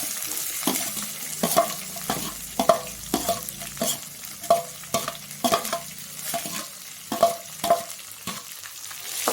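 Onions frying with dal in a pan for potato masala, a steady sizzle broken by repeated sharp stirring scrapes of a spoon against the pan in an uneven rhythm, close and clear with no talk.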